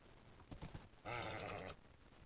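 Horse in the Minecraft video game: a few soft hoof clicks, then a loud, near, sustained whinny lasting about two-thirds of a second, standing alone without talk.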